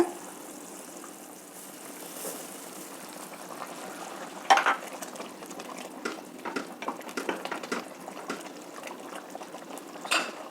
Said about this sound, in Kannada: ಕುದೀತಾ ಇದೆ ನೀರು ಈಗ ಅಕ್ಕಿ ತರಿನ ಸೇರಿಸ್ತಾ ಇದ್ದೀನಿ